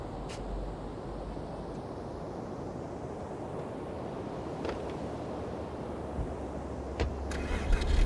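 Steady, broadband rushing road and wind noise from a car driving at high speed in the Unreal Engine 5 Matrix Awakens city demo, constant and fairly quiet with a few faint clicks.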